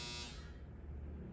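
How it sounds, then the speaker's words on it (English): Clothes dryer's end-of-cycle buzzer, a single short tonal buzz that cuts off quickly, followed by quiet room hiss. "Okay, so the dryer's ready."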